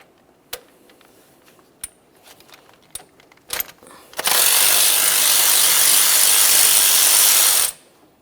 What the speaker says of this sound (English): Use a 12mm to remove this mounting bolt.